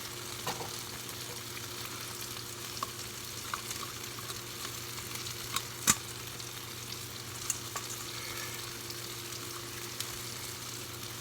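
Packaged food frying in a heated pan on a quick burner gives a steady, fairly quiet sizzle with a few scattered clicks and scrapes from stirring. No one speaks.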